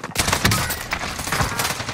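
Gunfire in the battle royale game Warzone: a dense, loud volley of rapid shots and bursts filling the short stretch, close and continuous with no talk over it.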